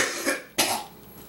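Two harsh coughs from a person with a sore throat, close and fairly loud, a rough burst near the start and a stronger one midway, trailing off with no talking.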